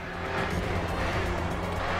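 Ford Mustang race car in the video game GRID 2, its engine revving hard in a steady, close, continuous roar with a hint of tire noise over about two seconds, no talking over it.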